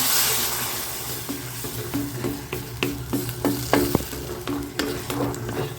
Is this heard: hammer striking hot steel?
no